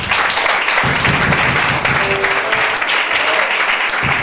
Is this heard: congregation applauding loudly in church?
yes